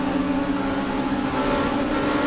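A touring race car engine revving on the start grid at Rattlesnake Point, a loud, steady onboard drone with a held pitch throughout, no speech over it.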